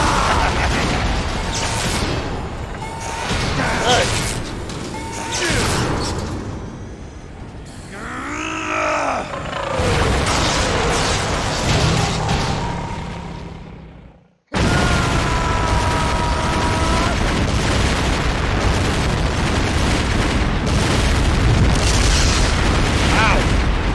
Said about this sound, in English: That thing really exploded.